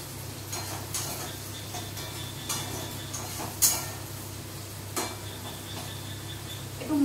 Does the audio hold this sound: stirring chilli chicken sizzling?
yes